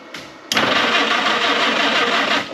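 A historic Ford Willys Jeep with a manual choke cranks briefly, then its engine catches and roars loudly and steadily, running close by with a rough, busy tone.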